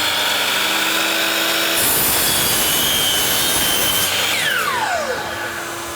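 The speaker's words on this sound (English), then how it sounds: "this will continue to run the vacuum for 7 seconds to clear the hose" An Ortis-switched shop vacuum dust collection system runs with a loud, steady roaring whoosh, clearing the hose; near the end the motor winds down automatically, its whine sliding lower in pitch as it shuts off.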